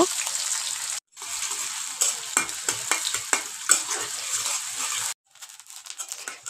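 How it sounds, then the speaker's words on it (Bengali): Chopped onions sizzle loudly in hot oil in a wok, a steady hiss broken by scraping stirs, with two short cuts where the sound drops out entirely. "কড়াইতে দিয়ে দিলাম পেঁয়াজ কুচি তেলের মধ্যে। এখন এটাকে আমি হালকা ভেজে নিব।"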